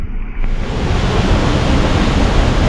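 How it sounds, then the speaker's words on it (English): Sanyatu Waterfall in Samoa, a freshwater falls, gives a steady, loud broadband roar of falling water that runs unbroken and close throughout, with no talking. "That is Sanyatu Waterfall."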